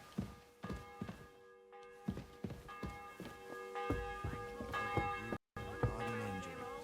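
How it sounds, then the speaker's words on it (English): A church bell tolls repeatedly with ringing, sustained tones in the medieval video game Kingdom Come Deliverance 2, joined by irregular dull thunks and footsteps, with a brief silent cut near the end. "Bell's ringing for hands the 5th time."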